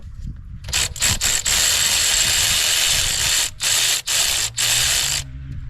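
A ratchet with a 10 mm socket loosens a bolt on a 2014-2019 Chevy Tahoe during a radiator fan repair, giving close, loud bursts of rapid clicking broken by short pauses.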